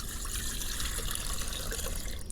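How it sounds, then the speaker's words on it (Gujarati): About three glasses of water are poured into a pressure cooker on a village stove to boil dal, giving a continuous close gushing and splashing pour that runs steadily from start to finish, with no talk. "દાળ બાફવા માટે આપણે 3 ગ્લાસ જેટલું કુકરમાં પાણી નાખશું."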